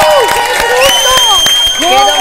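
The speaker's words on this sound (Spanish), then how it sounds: "los aplausos, los gritos" An audience reacts to a card trick with a close, steady patter of clapping mixed with excited shouts and whoops, voices rising and falling throughout.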